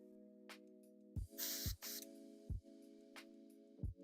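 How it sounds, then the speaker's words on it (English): Bursts of hissing spray from an airbrush laying down paint on a 3D-printed Miles Morales Spider-Man figure, a sustained spray near 1.3–2.0 s with shorter puffs, over a steady compressor-like hum. "I do love this airbrush"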